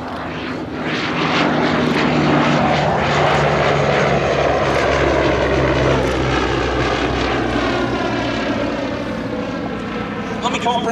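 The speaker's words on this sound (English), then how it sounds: "Westland met the specification with this high-wing monoplane with large undercarriage spans" Westland Lysander high-wing propeller monoplane flying at an airshow, a loud, sustained rumbling engine drone with propeller buzz that stays fairly steady as it passes, with a voice talking over it.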